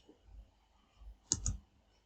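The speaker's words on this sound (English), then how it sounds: "Then press Alt X." Two quick, faint clicks of keys pressed together on a computer keyboard, Alt and X typed in MS Word, in a quiet room with no talking.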